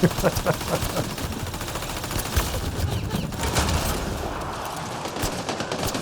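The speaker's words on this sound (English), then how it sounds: "This is what is called suppressing fire!" Rapid sustained automatic gunfire rattles in Mass Effect: Andromeda, a dense fusillade of close, loud shots firing continuously for several seconds with occasional heavier thumps.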